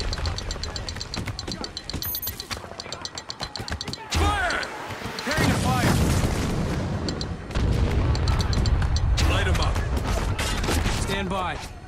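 Mortar rounds and explosions boom in the desert combat of Spec Ops: The Line, with heavy blasts and gunfire layered thick over music and shouted voices, the loudest bursts hitting near the midpoint and again toward the end.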